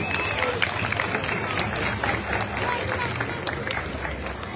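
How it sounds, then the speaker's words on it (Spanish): Crowd applause for a trumpet teacher at a mariachi student event, steady dense clapping filling the whole stretch with a busy crowd murmur beneath. "Un aplauso para él, por favor."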